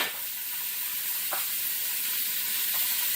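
Onion and celery sizzle steadily in a hot skillet for Swiss steak with tomato gravy, a continuous close hiss with a couple of faint soft stirring touches and no talk.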